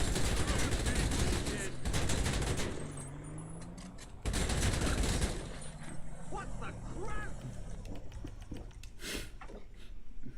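Enemies firing guns in GTA Online, with loud rapid automatic bursts and scattered shots amid engine and street noise, a voice talking over the shooting.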